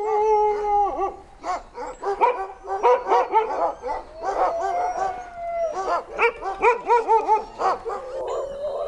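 Several dogs in a snowy Finnish winter setting bark, yip and howl in a dense, overlapping chorus, loud and close with continuous excited calls throughout and no talk.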